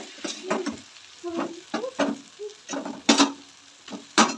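Double-yolk eggs going one by one into a pan of sizzling, well-cooked tomato masala, heard close up as uneven bursts of frying and spatula scrapes with short pauses between.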